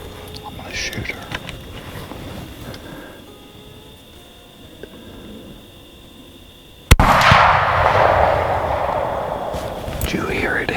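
A single sharp rifle shot fired at a deer while hunting in Butler, Georgia, cracks loudly after a quiet outdoor stretch, followed by a lingering rumbling echo.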